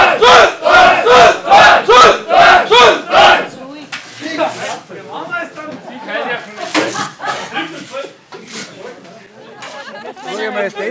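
A crowd at an ice hockey game gives several rhythmic, loud chanted cheers in quick succession. Livelier chatter and scattered shouts from nearby people follow.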